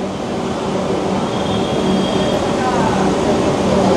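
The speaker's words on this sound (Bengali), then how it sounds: "নির্ধারিত সময়ের থেকে কিছুটা সময় লেটে আমাদের ট্রেন এসে পৌঁছালো ব্যান্ডেল জংশন স্টেশনে" An Indian Railways express train, the Kamrup Express on the Howrah to New Jalpaiguri route, rolls into Bandel Junction station, giving a steady close rumble of wheels and carriages with faint squeals, heavy throughout.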